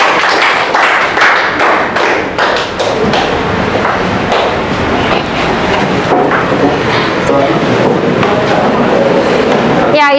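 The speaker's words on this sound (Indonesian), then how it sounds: "kasih tepuk tangan untuk kelompok 5." Classroom applause for a student group after their presentation in a school science lesson on electricity, a dense spread of claps and taps filling the room steadily for about ten seconds, with some voices mixed in.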